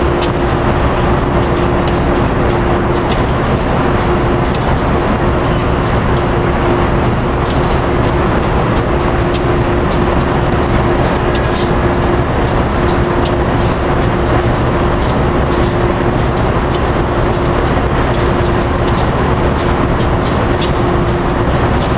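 An Amtrak train on a holiday extra run rumbles past on a Sunday in December, a loud, steady roar with rolling clatter that holds for the whole span without a break.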